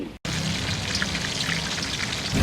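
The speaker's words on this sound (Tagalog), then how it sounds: "piniprito at piniprepare na nila yung mga iba pang karagdagang pagkain" Food frying at a buffet eatery, a loud, steady crackling hiss like heavy rain, close and continuous after a brief dropout at the start, with a low rumble rising near the end.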